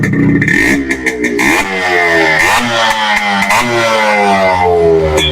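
A vehicle engine starts and idles, then revs lightly a few times, with rising and falling engine tones close and loud, alone without talk.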